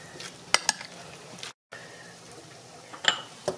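Potato salad dressed with vinegar being stirred in a bowl, soft wet mixing under low background hiss, with a few sharp utensil clinks against the bowl.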